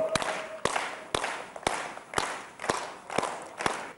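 Group of people clapping together in a steady rhythm of about two claps per second, eight sharp even claps, on the set of a Bengali TV serial before a song.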